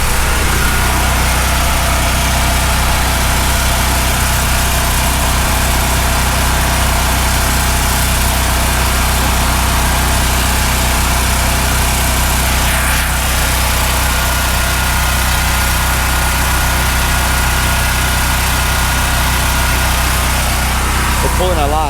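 A Firman 7571 generator runs steadily with an exhaust fan drawing power, giving a loud, continuous engine drone with a deep low hum throughout and no breaks.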